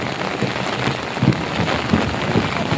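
Heavy rain pours steadily onto surfaces, a dense continuous hiss with a few low rumbling swells that may be distant thunder, no voices present.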